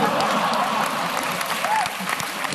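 Applause and some laughter from a crowd of liberal students at Stanford University, a dense steady patter of clapping that stays loud throughout with no single voice standing out.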